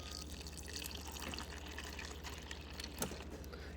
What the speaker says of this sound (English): And then you just switch right here for water.